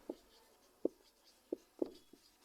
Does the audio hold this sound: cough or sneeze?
no